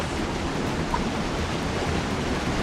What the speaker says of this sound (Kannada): ನೀರು ಒಳ್ಳೆ ಸ್ಪೀಡ್ ಉಂಟು